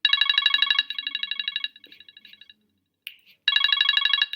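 Phone ringing with an incoming call, two bursts of bright warbling electronic ringtone separated by a short gap, close and clear with no talking.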